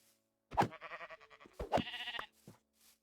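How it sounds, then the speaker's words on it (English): A sheep in the video game Minecraft bleats twice, each a close, clear wavering call with a short pause between them, and nothing else plays over them. "I spot a wandering sheep. I take it down for food."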